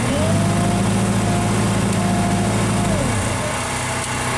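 A small engine on a Genie machine under repair, running close by as a loud, steady, buzzing drone with a faint whine over it, shifting in pitch near the end. Nobody talks.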